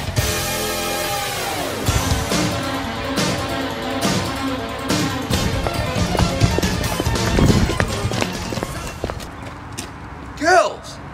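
A horse's hooves clip-clop in a quick, irregular series of close taps among other busy sounds, with people talking and a short rising squeal near the end.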